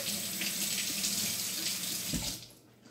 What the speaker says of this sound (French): je vais me laver les mains entre deux